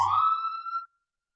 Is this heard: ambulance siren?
yes